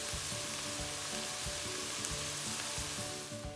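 Pads of butter sizzle in a bubbling red sauce over medium-high heat, making a constant close frying hiss with soft repeated bubbling pops, and no one talking.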